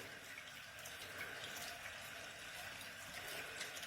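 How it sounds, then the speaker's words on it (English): Water trickling and splashing steadily from a small Uniclife 80 GPH 4W submersible pump fountain, a quiet continuous flow close by with no other sounds. "I love the way the water flows on this one though."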